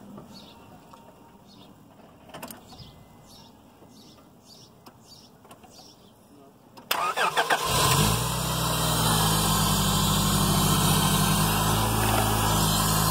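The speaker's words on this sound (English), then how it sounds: "Okay, crank it." A car engine is cranked and fired up using a Rockford battery booster: a quiet outdoor stretch with faint birdsong gives way to a brief crank, then the engine catches and settles into a loud, steady, close idle.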